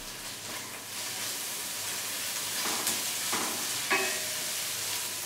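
Ginger garlic paste sizzles with browned onions in a pan over a medium flame, a steady close frying hiss broken by a few soft stirring scrapes.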